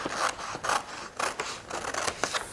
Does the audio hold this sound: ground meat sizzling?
no